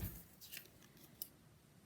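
Scissors snip card stock during a paper-crafting project, with a few short, quiet cuts in a hushed room.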